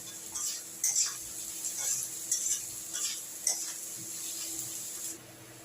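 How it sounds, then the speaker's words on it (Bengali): Salted onions fry to a half-done softness in a pan. A faint, even sizzle runs under soft scraping and clicking as they are stirred, and the sound ends abruptly. "আধ ভাজা পর্যন্ত আমি পেঁয়াজটাকে ভাজবো"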